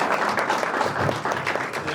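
An audience applauds a company managing director at an anniversary event, with dense, steady clapping running throughout at a moderate level.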